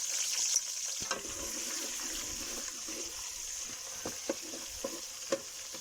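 Finely chopped medium onions hit a hot pan for a home-style vegetable sabzi, giving a steady, close hiss of sizzling oil with occasional small pops and clinks.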